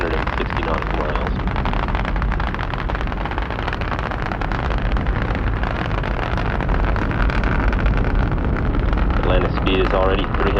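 Space Shuttle Atlantis lifting off, its three main engines giving a loud, continuous broadband roar with wind-like rumble that holds steady throughout, while a voice talks faintly over it.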